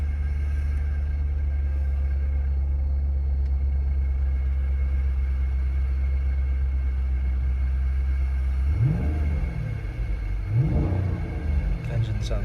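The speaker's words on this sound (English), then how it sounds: "Engine sounds really good." A 6.4-litre HEMI V8 in a 2012 Jeep Grand Cherokee SRT8 with about 80,000 miles idles with a steady deep rumble, then gives a couple of short revs near the end.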